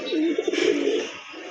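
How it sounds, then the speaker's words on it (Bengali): Pigeons coo close by in one short, throaty, rolling call that fades out. "মাশাআল্লাহ অনেক সুন্দর কবুতর দেখেন আপনারা"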